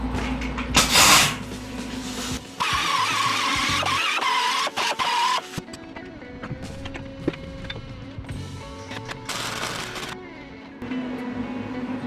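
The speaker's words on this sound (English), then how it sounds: "let's see if we can knock the weld down now" Power grinder knocking down a weld on the passenger-side bed of a 1949 Jeep Willys pickup, a loud steady whine running for long stretches with brief pauses and changes in pitch.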